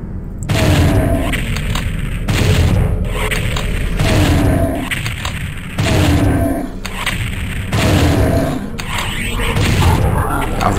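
Rocket explosions from the video game Doom 64 boom in a steady series of heavy, loud blasts roughly every second or two, each with a deep rumbling tail, with no talk over them.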